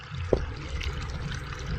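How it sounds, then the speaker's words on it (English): Water from a small accidental waterfall runs steadily into a pond, a soft continuous trickle and splash heard close and alone, with one brief louder splash near the start. "Down here is like a small pond and here's the water flowing."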